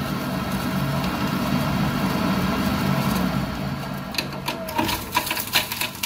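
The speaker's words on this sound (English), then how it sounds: "You can hear that debris. There's something definitely going around the boiler." A Viessmann Vitodens 050-W gas boiler with an F2 fault runs with a steady mechanical hum and rattle, then loose debris inside starts ticking and clattering irregularly in the last couple of seconds, with no talking.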